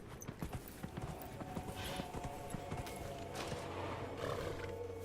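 Horse hooves clip-clop in a quick, steady gallop as a character rides through the world of Dragon Age: Inquisition, with a brief whinny and faint background game sound.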